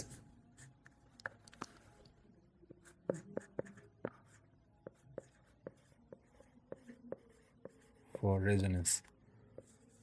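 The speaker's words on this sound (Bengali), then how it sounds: "লাইনটা এখানে লিখবো, ফর রেজোনেন্স" Chalk or marker strokes on a classroom board during an NMR spectroscopy lecture: a steady run of light taps and short scratches, close by, with a brief burst of talk near the end.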